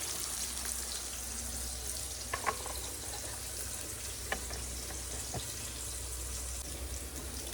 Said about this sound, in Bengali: আর এর পাশে দেখুন কুমড়োটা খুব ভালোভাবে ভাজা হচ্ছে